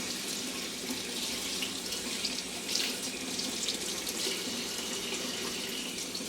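A kitchen tap runs in a steady, unbroken hiss of water into a sink while being warmed, close and even in level throughout with no speech.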